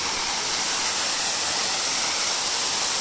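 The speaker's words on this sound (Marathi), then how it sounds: "तर अजून आहे ना बरंच पाणी पडतं आहे वरून बघा" A village waterfall in the Konkan countryside pours heavily with a loud, steady roar of rushing water that fills the whole clip without pause.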